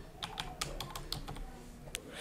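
Quick, irregular keystrokes on a computer keyboard, close and fairly quiet, with a dozen or so clicks in a short burst and no talking.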